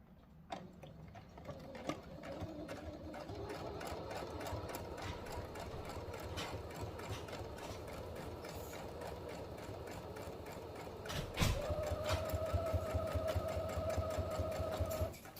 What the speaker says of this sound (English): Straight stitch going down at a